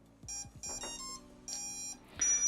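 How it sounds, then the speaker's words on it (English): A Blue Robotics electronic speed controller (ESC) driven by an Arduino powers up with a series of clear electronic initialization beeps: several short tonal chirps in sequence, then a final brighter tone, close and fairly loud with no talking. "That's the sound of the speed controller initializing"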